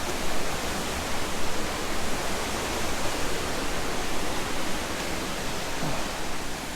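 Waterfall at Blackwater Falls State Park in West Virginia, heard from nearby as a dense, unbroken roar of falling water that holds steady and loud throughout.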